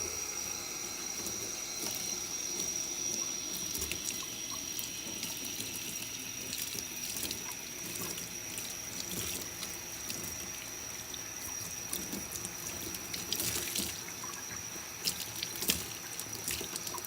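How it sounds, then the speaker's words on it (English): A dirt bike air filter is rinsed under warm tap water, a steady close stream of running water splashing and dripping throughout with occasional louder spatters. "And then you could rinse it off with some warm water."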